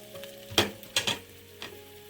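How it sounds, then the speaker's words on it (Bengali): Chopped garlic dropped into hot extra virgin olive oil for rice noodles, giving a few sharp sizzling bursts with stirring scrapes between them, close and fairly quiet, with no talk. "তেলটা গরম হয়ে গেছে দিয়ে দিচ্ছি রসুন কুচি প্রথমে"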